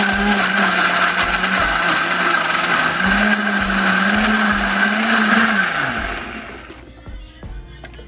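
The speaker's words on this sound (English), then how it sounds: "here's one pitcher of sliced tomatoes going in the blender to be pureed" A blender purees a pitcher of sliced overripe tomatoes, a loud steady motor whir for about six seconds before it winds down and stops, leaving brief clatter and quiet at the end.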